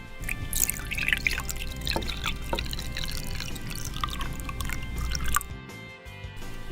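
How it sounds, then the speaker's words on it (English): Hot water pours and trickles into a cup nearby, a continuous splashing stream with a few drips, then stops abruptly near the end. "we're going to pour some hot water into this cup"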